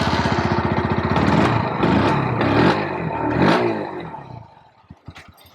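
TVS Raider 125 motorcycle with an underbelly exhaust, revved up close in a few rising bursts with a throaty putter between them, then dropping to a few faint pops as it dies away.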